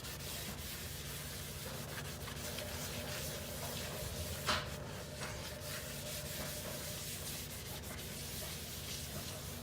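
A white sink scrubbed with borax, lemon juice and dish soap lather, a continuous soft close rubbing and scouring with one brief louder scrape midway and no speech.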